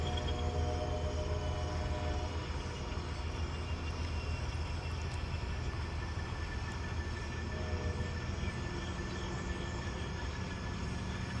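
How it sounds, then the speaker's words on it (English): A train passes on the Oak Hill Industrial Railroad, a double-track line, with a steady, continuous rolling rumble and whine that holds evenly throughout, moderately loud and with no talk. "Oh wow, we've got another train."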